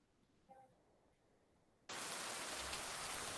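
Rain sound from a tinnitus sound therapy app switches on abruptly partway through, a loud, dense, even hiss of falling rain that continues steadily after a quiet stretch with a faint brief tone.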